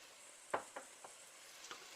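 Garlic added to a hot pan for pancit bihon, with a few soft clinks and stirring taps over a faint, even sizzle, quiet and close.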